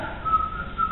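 A voice imitates a whistling alarm clock: two short, thin whistled tones with a brief gap, close and alone over faint room noise.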